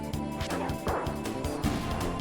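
A dog barks in the video game Secret of Evermore, a few short yaps and impact hits layered over steady in-game music.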